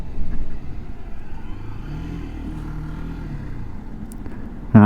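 A Zontes ZT125-U1 125cc motorcycle makes a turn and drops down through the gears, its engine a steady low drone that eases and shifts in pitch, heard from the rider's position.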